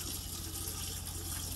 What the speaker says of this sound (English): So if I turn the water on,